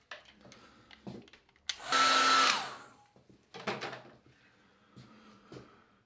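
A hair dryer blows briefly, roaring for about a second, to dry a small watercolour painting, framed by quieter handling knocks and rustles before and after.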